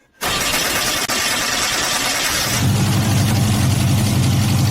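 An old Saab car, left sitting in a garage for 30 years, cranks and fires up, then settles into a loud, rough, steady idle heard close by.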